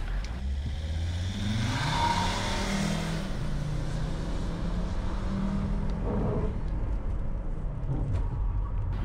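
A Volvo S60 turns with its wheels spinning and tyres smoking, a loud, steady engine roar and rumble that swells and continues through the whole stretch, with no talking.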